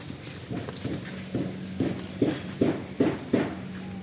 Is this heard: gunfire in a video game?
no